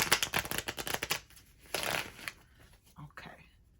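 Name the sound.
shuffling tarot cards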